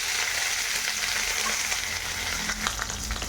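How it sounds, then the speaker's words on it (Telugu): Cumin, mustard seeds, onions, dried red chilies and curry leaves crackle in hot oil as a steady, dense sizzle with small pops, close and loud, with no talking. "హాఫ్ టీ స్పూన్ జీలకర్ర, హాఫ్ టీ స్పూన్ ఆవాలు, ఎల్లిపాయలు, ఒట్టిమిరపకాయలు, కరివేపాకు కలిపి వేసేసుకోవాలి."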